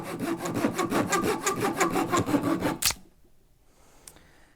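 A hand saw cuts through a log in quick, regular back-and-forth strokes, loud and close, for about three seconds before stopping abruptly, leaving near silence with one faint knock.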